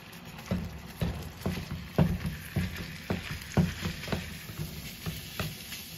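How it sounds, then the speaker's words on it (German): Seasoned beef, rubbed with cumin, oregano and Italian herbs, frying under a lid in a pan on a home stove, giving a steady sizzle broken by a string of soft clattering knocks and bumps, close by and with no talk. "Deckel drauf und anbraten lassen."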